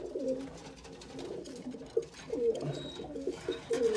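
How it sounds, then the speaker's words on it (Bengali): Pet pigeons kept in a home coo repeatedly and close by, several birds calling in overlapping, throaty, rhythmic bursts with a few brief wing or body rustles between them. "সবগুলি পাগল হয়ে গেছে ডাকতে ডাকতে, এই যে দেখতে পারতেছেন সবগুলি ডাকতেছে"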